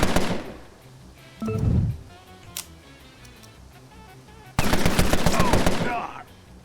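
Rapid bursts of automatic gunfire from the Empire of Sin gangster game, loud and close: a short burst near the start, a brief shot midway, then a sustained rattling volley lasting nearly two seconds.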